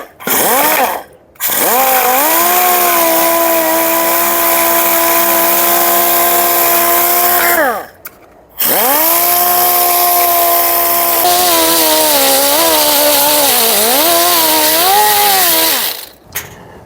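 An angle disc grinder with a hard disc sands a rusty vintage Simplicity tractor seat in long, loud, whining bursts close by, separated by brief pauses, the pitch wavering as the disc is pressed against the metal.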